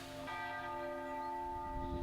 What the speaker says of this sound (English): one Italian town might be the place that hears the sound of bells more than anywhere else in the world